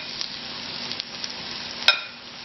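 Chicken frying in a pressure cooker pot for biryani, a steady close sizzle with faint stirring and one sharp clink near the end.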